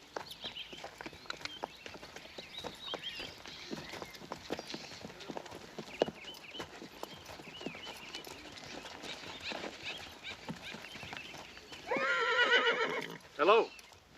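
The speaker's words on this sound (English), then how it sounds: "What's the matter? You never seen a horse before?" On a farm, horse hooves clip-clop steadily at close range, then a loud, wavering neigh rings out near the end, with people talking in the background.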